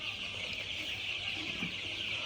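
Fifteen-day-old broiler chickens being raised for meat cluck softly and steadily under a constant hiss of farm-shed background noise, with no clear individual calls standing out.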